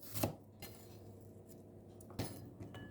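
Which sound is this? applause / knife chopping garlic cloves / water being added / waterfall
knife chopping garlic cloves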